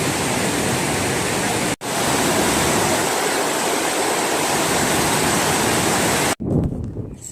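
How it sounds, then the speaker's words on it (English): Loud, steady rush of river water pouring over rocks, broadband and continuous, with a brief drop near the end before it returns slightly muffled. "This is where the water comes and disappears."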